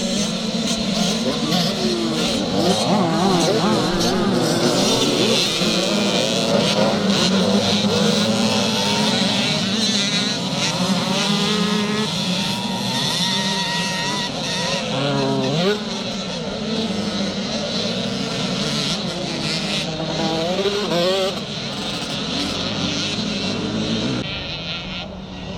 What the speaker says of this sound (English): This is the 65 and 85cc small wheel race. These little screamers head up the hill.